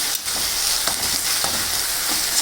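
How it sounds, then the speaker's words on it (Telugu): Turmeric being stirred into a pan of leafy greens curry, with steady frying sizzle and a few scraping strokes of the spoon across the pan, close and continuous with no talking. "పసుపు వేసుకొని మళ్ళీ బాగా కలపాలండి"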